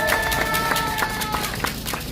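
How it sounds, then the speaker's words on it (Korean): Rally audience clapping for a guest, a brisk patter of handclaps from a crowd, steady and fairly near, over a low background rumble. "박수 쳐주십시오"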